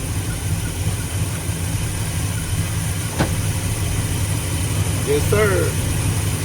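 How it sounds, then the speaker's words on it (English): A Chevy car engine idles steadily after a jump start with a new Summit alternator, a loud constant low rumble throughout, with a man's brief speech near the end. "Got the car running."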